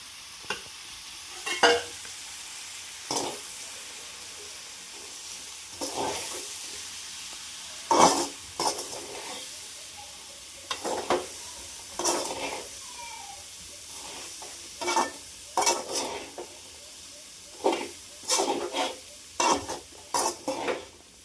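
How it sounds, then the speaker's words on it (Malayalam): Onions added to hot coconut oil with mustard seeds sizzle in a pan, with repeated spatula scrapes and clanks against the metal coming at irregular intervals over a steady frying hiss; no talking. "അപ്പോൾ നമ്മൾ വെളിച്ചെണ്ണ ചൂടാറുണ്ട്, കടുക് ഇട്ടിട്ടുണ്ട്. ഇനി നമുക്ക് സവാള ഇടാം."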